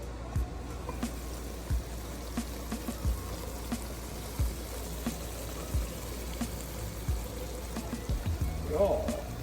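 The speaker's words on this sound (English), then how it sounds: "I'm gonna drain it a little bit." Water drains off washed sweet potato greens in a kitchen, a low continuous trickle broken by soft splashes and small knocks.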